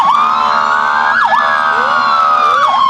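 A fire engine siren from a fire department truck at a Christmas parade in Lockhart wails loud and close, sweeping up and down in repeated cycles with no pauses.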